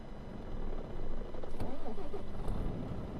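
A DAF XF 95 truck engine in Euro Truck Simulator 2 stalls and cranks back to life, a steady mid-pitched engine rumble rising into a fuller running drone, with faint talk underneath.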